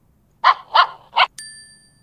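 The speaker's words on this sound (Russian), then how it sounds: "Покажи собачку." Three bright, evenly spaced dog barks ring out loud and close with no other noise, and a clear electronic chime follows at the end.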